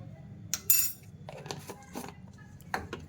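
A spoon stirs a batter of sabu and egg with baking powder and soda in a bowl, giving a few scattered metallic clinks and scrapes against the rim, close by and fairly soft, with a brighter clink near the start.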